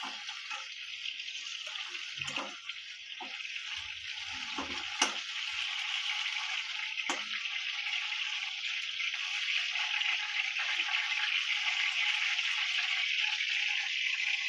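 Pointed gourd sizzles in hot oil in a pan for fennel-spiced gourd: a steady, close frying hiss that grows slightly louder, with occasional clinks and scrapes of utensils and no talking.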